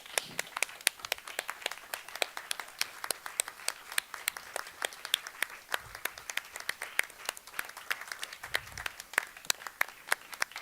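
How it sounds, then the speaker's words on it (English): A conference audience applauds, a sustained patter of many hands clapping at a moderate distance, steady for the full stretch with a few faint low thumps. "stand up and applaud them all the way back"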